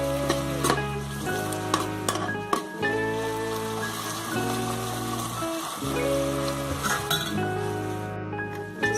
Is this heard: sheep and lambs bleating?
no